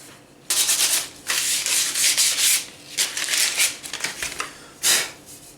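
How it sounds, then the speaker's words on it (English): A handmade wooden stick being sanded smooth by hand, with a series of close, rasping back-and-forth strokes in uneven bursts separated by short pauses. "we'll sand it down smooth"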